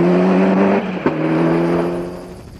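A Ford Escort Cosworth rally car at a 1994 British Rally Championship event, its engine holding a steady loud drone that dips with a sharp crack near the middle, then carries on before fading slightly at the end.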